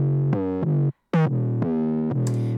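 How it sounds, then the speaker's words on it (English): Heavily distorted 808 bass pushed through a Decapitator set to punish, with only the top end driven, a few gritty sustained notes with a brief gap, close and loud. "the punish button, it's going to give it a lot of distortion"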